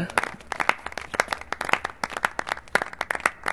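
Many people clapping in a Telugu movie scene, a steady dense patter of applause at moderate distance with no voices over it.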